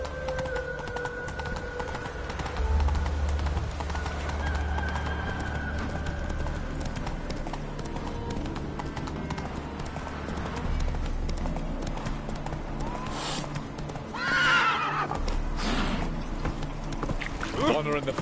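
Roach the horse gallops in The Witcher 3, its hoofbeats clip-clopping in a steady rhythm under game music and a voice. Short whinny-like calls rise near the end.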